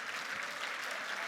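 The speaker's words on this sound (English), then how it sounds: "Another round of applause, please, for Mr. Alan Elliott" A conference audience at MICECON 2023 claps in a dense, even burst of applause that stops abruptly after about a second, heard faintly at a distance.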